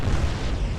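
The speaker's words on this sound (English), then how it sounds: "Big explosion." Explosion in the naval warship game Atlantic Fleet, a brief, heavy, rumbling boom filling the whole moment with dense low-end roar and no talking over it.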